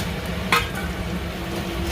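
Fried potatoes are stirred into spices sizzling in a pan for a Bengali curd and coconut milk fish curry: a steady low frying hiss with one sharp stirring scrape near the start, close by.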